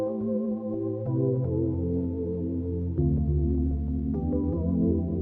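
Ambient synth melody passed through the RC20 Roses preset and Valhalla Supermassive delay and reverb, soft sustained chords stepping through changes with a washed, smeared tail, played alone at low level.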